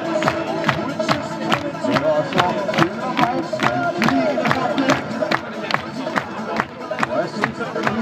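A large crowd at Aker Brygger, Oslo, applauds and cheers, with sharp rhythmic clapping and voices throughout, and speech mixed in.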